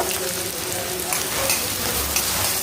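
A chopped large onion sautés in a pan with garlic until browned, giving a close, continuous hissing sizzle with light crackles throughout.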